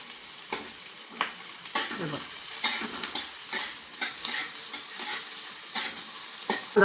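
Garlic cloves stir-fried in a pan until browned for a soybean curry, a continuous sizzle broken by regular scraping strokes of a spoon, close and fairly loud, with no talk.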